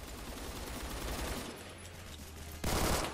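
An RPK machine gun is fired in Roblox Phantom Forces, heard as rapid, continuous bursts of gunfire, steady and fairly loud, ending in a sharper, louder burst, with no talking.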